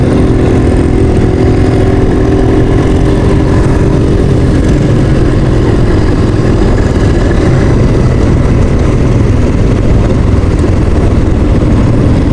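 Motor trike engine running steadily while riding through Naga City on a hot afternoon, a continuous loud rumble with wind noise and no talking.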